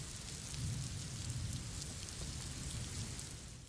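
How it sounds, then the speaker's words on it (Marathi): Steady heavy monsoon rain pours continuously in Mumbai, a dense broadband hiss with a low rumbling undertone and no voices. "मुंबईला मुसळधार पावसाने चांगलं झोडपून काढलेलं आहे"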